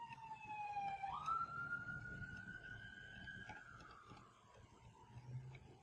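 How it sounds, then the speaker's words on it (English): A siren wails in the distance outside a studio, its pitch rising and then slowly falling, over a low steady background rumble. "You hear the sirens outside my studio."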